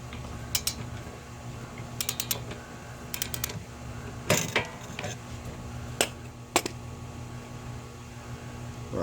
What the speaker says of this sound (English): This one you have no problem getting your socket and ratchet on.